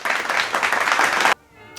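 Round of applause from an audience at a Harlem writers event, a brief, lively burst of clapping that cuts off abruptly, leaving near silence with a faint sound at the end.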